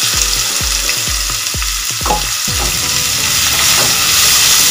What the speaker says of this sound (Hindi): इसको हम भूनेंगे 2-3 मिनट तक